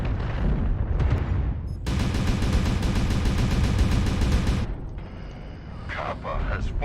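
Sustained gunfire in a mech combat video game, a dense loud burst of rapid shots lasting a few seconds, then quieter clatter and crackling bursts near the end.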